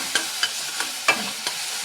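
Spice tempering for a ridge gourd dish sizzles in a pan while being stirred, with a steady frying hiss broken by five soft, evenly spaced scrapes of the spoon, close and moderately loud, no voices.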